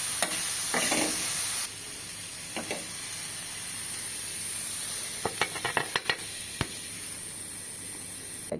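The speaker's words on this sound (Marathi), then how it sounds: "याला सुद्धा आपण मीडियम आचेवरतीच परतून घ्यायचं आहे" Mushroom samosa filling sautés over medium heat with a soft, even sizzle, and scattered clicks and scrapes of a spoon against the pan toward the end.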